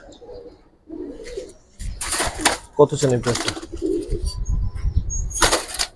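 Giribaj pigeons of the Bagha and Silver types flap their wings in a few sharp bursts and coo softly nearby, with people talking over them throughout.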